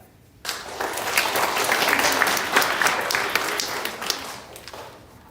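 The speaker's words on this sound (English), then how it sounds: "Hold the applause until we get all of the 5th graders, and then we'll do a round of applause" Audience of students and families at a middle school leadership assembly for spring athletics bursts into loud, dense applause that swells and then gradually thins out, with a few scattered sharper claps near the end.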